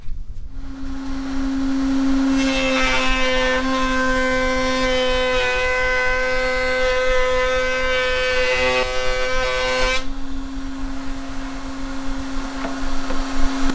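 An MLCS horizontal router table cuts wood with a bearing-guided bit, a loud steady high-pitched whine that rises as the bit engages and settles back, with a rough cutting texture underneath and no talking.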